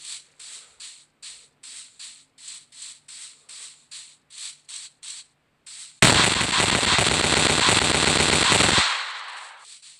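Guns from a Minecraft weapons mod fire in a video game: a string of evenly spaced single shots pops for six seconds, then a loud, dense burst of rapid automatic fire roars for about three seconds before trailing off.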